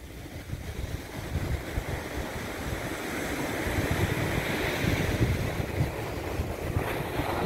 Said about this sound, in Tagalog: Parang lalakas ang alon, ha?